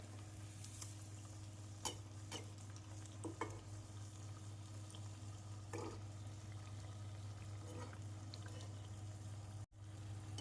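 Athirasam sweets fry in oil over medium heat, a steady close sizzle with occasional light clinks and stirring sounds and no talking.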